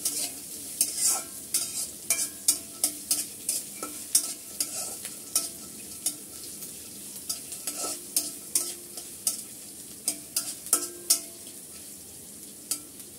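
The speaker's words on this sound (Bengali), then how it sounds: "পেঁয়াজটা আমি একটু নেড়ে চেড়ে ভেজে নিচ্ছি।" Chopped onion fries in a pan as a spoon stirs and scrapes it in quick, repeated strokes over a soft, steady sizzle, close and clear with no voices.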